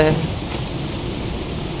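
Steady rain pours with a low rumble of thunder during a storm in the video game Project Zomboid, a dense continuous hiss close and fairly loud throughout.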